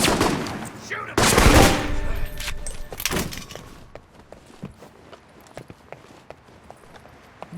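Gunfire in the video game Alpha Protocol, a loud cluster of sharp shots and a burst early on, then scattered lighter clacks and footstep-like taps trailing off quieter.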